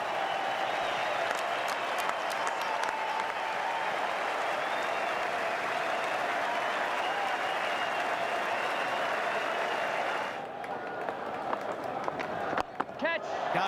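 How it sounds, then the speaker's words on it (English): A capacity cricket crowd in Western Australia roars and applauds in a sustained, dense wall of cheering that holds steady, then dips briefly near the end before swelling again, with scattered voices mixed in. "this Western Australian crowd, capacity crowd, will be all cheering"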